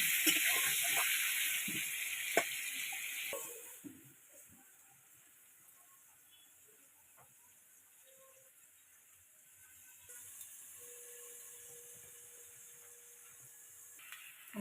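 Food sizzles and hisses in a frying pan while fried rice is cooked. The frying is loud and steady for the first few seconds, then drops to a faint, quiet sizzle before rising slightly near the end.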